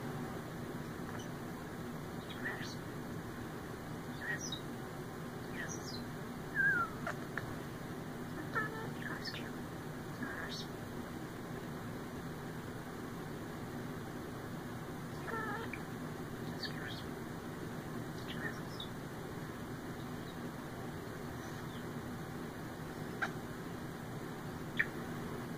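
A pet starling makes soft, scattered mumbling chirps and clicks while being cuddled, faint and close, over a steady low room hum.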